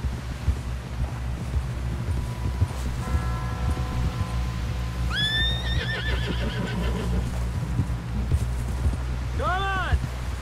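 A horse whinnies twice over a low rumbling backdrop of hoofbeats and steady game ambience from Red Dead Redemption 2, with a voice speaking in the middle.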